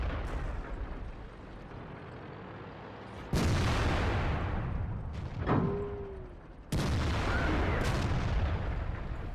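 Heavy tank gun blasts from an IS-6 in World of Tanks, two loud booming shots several seconds apart over constant engine and battle rumble, with a whistling shell sound between them.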